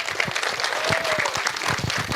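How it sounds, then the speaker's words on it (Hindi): Loud, dense audience applause at a film trailer launch event, steady clapping from a large crowd with a faint whistle partway through. "विक्रम सर के लिए भी एक बार जोरदार तालियां हो जाए."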